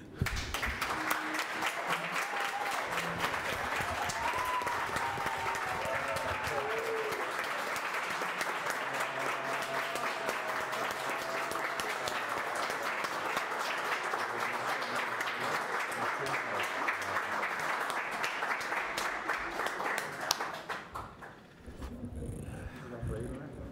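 A room full of people applauds at a solemn civic session in Bauru, with sustained dense clapping for about twenty seconds before it fades out and voices follow.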